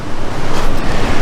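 Ocean surf on a beach along Sonoma County's Lost Coast, a loud, dense roar of breaking waves with heavy wind buffeting on the microphone, continuous and close.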